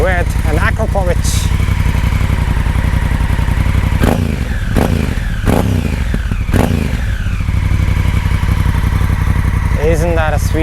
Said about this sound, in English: This is 2017 CRF 1000L Honda Africa Twin with an Akrapovic.